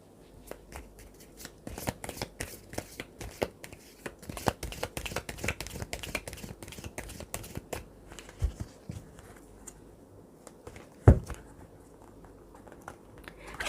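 Tarot cards are shuffled by hand for a reading, a long run of quick riffling and flicking bursts that slows into sparse taps and one sharp slap near the end.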